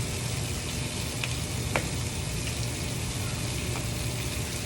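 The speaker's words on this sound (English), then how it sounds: "I'm gonna go ahead and add my vinegar" Vinegar poured into a washing machine during a homemade laundry detergent wash, a steady broadband hiss and rush of liquid running continuously for several seconds with faint clicks on top.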